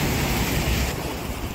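Ocean surf at a private beach resort in Goa, a continuous broad wash of breaking waves with wind, steady and fairly loud throughout.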